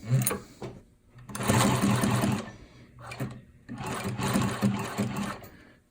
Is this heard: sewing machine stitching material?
yes